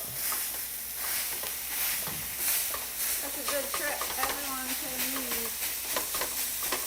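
Ground beef sizzles in a pan while a whisk mashes it, giving a constant frying hiss with irregular scraping and clinking strokes; a faint voice and some tonal sound surface partway through.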